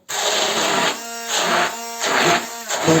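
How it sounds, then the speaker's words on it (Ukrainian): A loud electric blender whirs and grinds buckwheat mixture in pulses, its motor pitch rising and dropping several times. "Я буду блендером."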